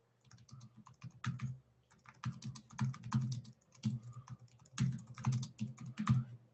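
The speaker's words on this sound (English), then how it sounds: "Now, if I continue typing," Close, quiet typing on a computer keyboard, quick clusters of key clicks separated by short pauses, with no voices.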